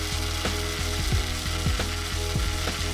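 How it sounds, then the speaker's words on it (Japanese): A belt sander grinds a thick metal hood-damper bracket for a 50-series Toyota Prius, giving a continuous loud abrasive roar with a regular mechanical thumping pulse. "ベルトサンダーで加工していきます"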